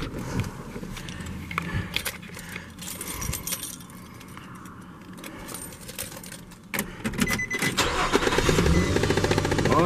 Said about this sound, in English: We'll know here in a second when we start it.